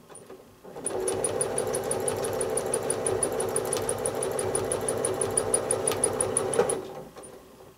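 Home sewing machine line quilting travel stitches across a quilt block, a fast, even, rhythmic mechanical whir and needle chatter running steadily for several seconds before stopping.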